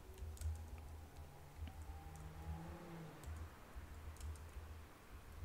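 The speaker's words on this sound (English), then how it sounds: "All I'll need to do is simply type in my idea." Quiet keyboard typing on a text-to-video app, light irregular clicks of keys tapped in short bursts, faint and close, with no voices.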